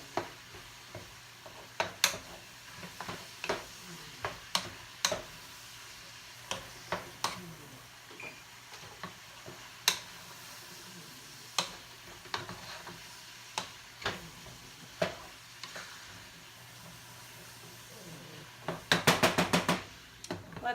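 Chili stirred in a pot, a long run of sharp, close utensil taps and scrapes at an uneven pace, with a quick burst of rapid clatter near the end and no voices.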